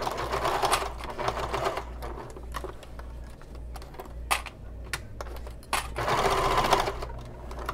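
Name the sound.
sewing machine basting bag pieces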